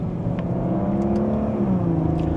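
A Maserati Ghibli Modena sports sedan engine pulls steadily in second gear under acceleration, its low drone rising gradually in pitch, moderately loud and continuous, with no exhaust pops.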